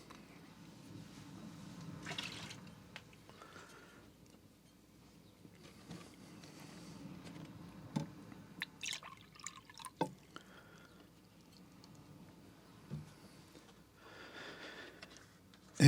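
Watercolor rinse water is dumped and changed, with faint splashes, drips and pouring trickles scattered among soft handling noises in a quiet room.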